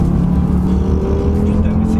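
An Audi RS3 engine drones and rises as the accelerator is pressed, a short close-up rev with a low steady growl beneath it.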